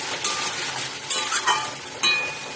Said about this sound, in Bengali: আলুটাকে মশলাটাকে একটু ভালো করে কষিয়ে নিলাম।